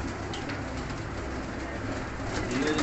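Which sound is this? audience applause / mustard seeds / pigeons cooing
pigeons cooing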